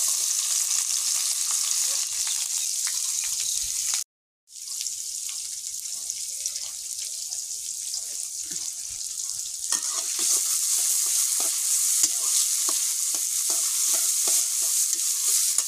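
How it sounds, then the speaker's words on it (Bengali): Bay leaf, cinnamon and onion fry in oil over a clay stove while being stirred, producing a steady, close hiss of sizzling broken only by a brief silent gap. "এবার তেলের মধ্যে দেব তেজপাতা, দারচিনি, তারপর দিয়ে দেব পেঁয়াজ।"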